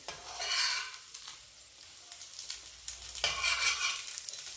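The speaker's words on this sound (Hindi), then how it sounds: "देखिए दोनों तरफ से फ्राई हो गए हैं।" Cheese and paneer upma cakes fry in a pan with a close, bright sizzle that swells and fades in two waves, no voices over it.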